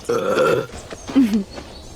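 A loud, drawn-out burp followed by a second shorter, croaky burp, close and clear with no talking.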